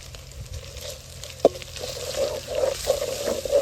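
Onion paste and green chillies frying in a pan for Telangana fish curry, a low, close sizzle that grows louder toward the end, with one sharp knock partway through.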